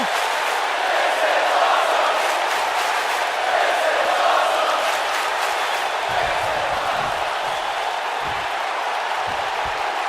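Wrestling arena crowd in the WWE 2K19 video game during SmackDown, a steady loud wash of cheering and crowd roar running throughout, with low thumps near the end.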